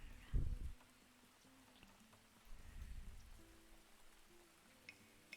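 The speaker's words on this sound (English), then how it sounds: "So it's raining." Rain falls on a frontier settlement in Farthest Frontier, a faint, steady patter with a couple of louder low thumps near the start and midway.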